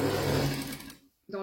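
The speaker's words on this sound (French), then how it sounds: "on va continuer la couture du haut qui stoppe tous les plis, qui les garde orientés" A sewing machine stitches the top seam across flat fabric pleats, a loud close whir that stops abruptly, followed by a brief restart.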